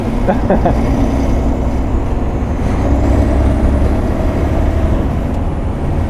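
A Volvo F16 intercooler truck drives along with a steady, close diesel drone and a faint hiss, heard from inside the cab, with no clear break marking the gear changes.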